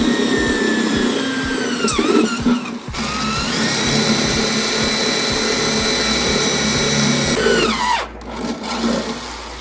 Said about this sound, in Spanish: Ahora yo me voy a dedicar a soldar.